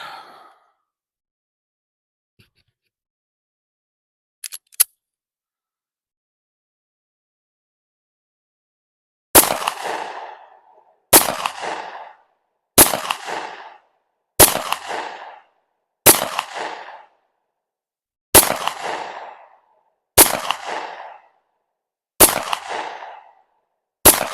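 Springfield XD 9mm pistol firing outdoors, starting with a lone sharp report, then nine loud close shots in an even, unhurried rhythm about every 1.6 seconds, each with a short ringing decay.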